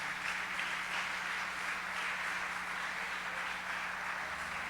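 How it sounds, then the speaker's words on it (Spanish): Steady applause from a church congregation during an evening service, a continuous wash of clapping held at even level throughout. "Le da un aplauso a Dios por eso en esta noche"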